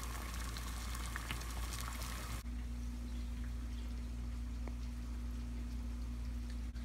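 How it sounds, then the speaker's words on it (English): Water boils in a pot on a stove, heated to soften Perfect Smile veneers. A close, steady bubbling hiss fills the first couple of seconds, then settles into a quieter, low simmering hum. "The water is boiling now, so it's time to put the veneers in."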